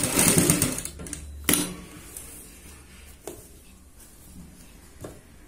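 Sewing machine attaching a strip of fabric to a kurti neckline with a presser-foot-width margin, running in a loud close burst for about a second and a half, then stopping, leaving faint clicks and handling noise.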